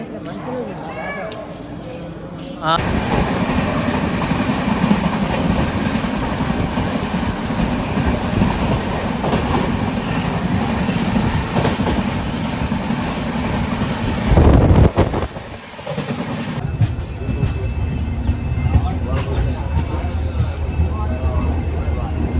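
A passenger train rumbles loudly at Kazipet railway station with rhythmic clickety-clack and wind buffeting the microphone, a brief louder surge midway, then continued rolling rail noise.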